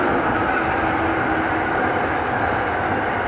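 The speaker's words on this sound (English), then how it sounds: "Train's coming past, hold on." A train rumbles past nearby in a loud, continuous roar that holds steady for the whole stretch, with no voices.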